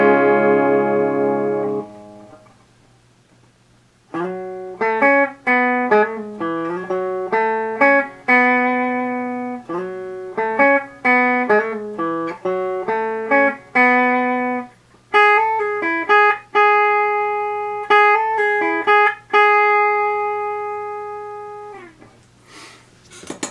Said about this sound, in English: Clean signal on the bridge pickup sounds like this.